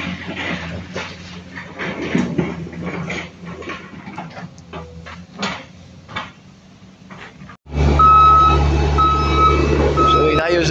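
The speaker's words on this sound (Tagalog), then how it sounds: "Ito yung truck natin." A dump truck on a gravel road sends out loud, steady reversing beeps at a regular rhythm over a heavy engine rumble, after a stretch of quieter engine and road noise.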